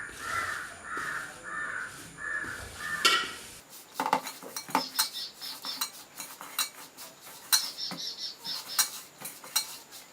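Rice flour, grated coconut and salt mixed by hand with a spoon in a metal uruli, heard as scattered close scraping clinks. A crow caws repeatedly in the background at the start.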